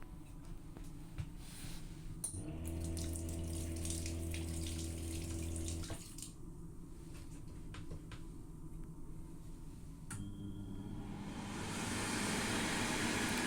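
Water runs from a tap into the sink of a train toilet, a steady hiss over the low rumble of the moving train, with a louder stretch later and a hum that stops partway.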